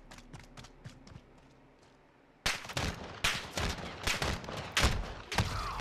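Gunfire in the multiplayer shooter Call of Duty Modern Warfare, 2v2 mode: faint distant shots at first, then a loud burst of close, sharp rapid shots and bursts, played alone without talk.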